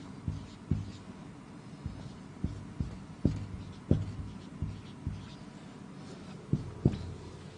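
Writing on a board during an accountancy lesson: soft, irregular taps and light scrapes recur every half second or so, quiet and close, with no speech.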